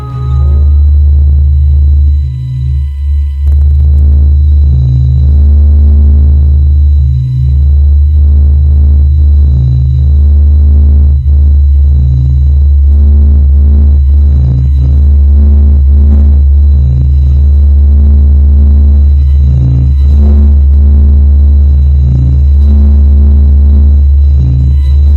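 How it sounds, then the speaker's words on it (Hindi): Sonified spacecraft recording of the Sun: a loud, continuous low rumbling drone with steady throbbing pulses and faint higher tones flickering over it, running unbroken for the whole stretch. "सबसे पहले शुरू करते हैं हमारे सोलर सिस्टम की खास तारा सूर्य की आवाज से।"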